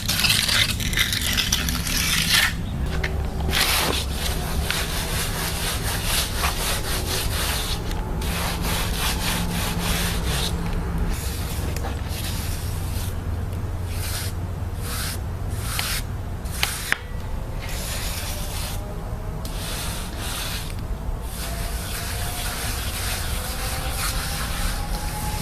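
A trowel scraping, rubbing and smoothing wet concrete while filling a concrete step repair, with continuous gritty strokes up close and no talk.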